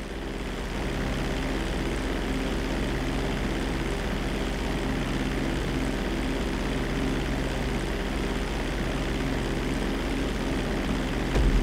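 A propeller airplane takes off in the video game GTA 5, its engine drone loud, steady and unbroken throughout, with no talking.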